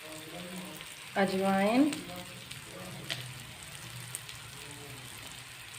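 Spices frying in a pan for chilli pickle give a steady, close sizzle throughout, with a brief spoken word over it.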